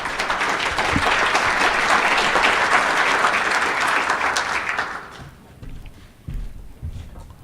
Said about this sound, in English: So let's hear it for Paul